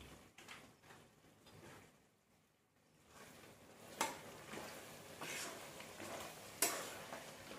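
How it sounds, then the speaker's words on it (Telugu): Green chillies and curry leaves are stirred into a frying chicken curry in a pan, with faint sizzling and scraping strokes of a spoon coming in soft, uneven bursts. "కరివేపాకు ఇవన్నీ వేసి బాగా కలుపుదాం ఒకసారి"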